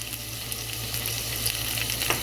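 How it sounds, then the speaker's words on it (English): A beef burger patty with garlic fries in a pan on medium heat, giving a steady close sizzle with faint crackles and a low hum beneath, and no talk. "keep your pan on medium and just keep flipping it on both sides so it doesn't burn"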